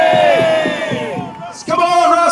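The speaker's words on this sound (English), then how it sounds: "They're cheering, Russ." At the Ford Fair 2012 car stunt show with Paul and Russ Swift, a large crowd roars and whoops loudly, breaks off briefly, and then surges again in a sustained cheer.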